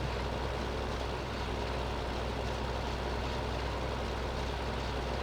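Tractor engine in Farming Simulator 15 hums steadily for the whole stretch, a constant low-pitched drone at a fairly loud level with no talk over it.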